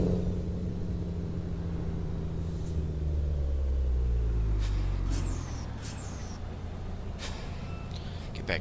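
A truck engine rumbles while driving in American Truck Simulator, a deep drone that rises and swells through the middle and then eases, with sharper hissing and squealing bursts on top, no talk.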